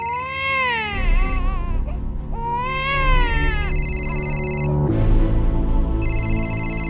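An infant wails in rising and falling sobbing bursts, loud and close indoors, while an electronic telephone ringtone chirps in repeated tones over the crying.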